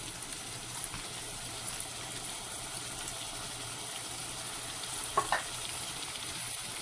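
Steady, loud sizzling of food frying in a pan for egg stew, with a brief clatter and splash of diced canned tomatoes poured in near the end.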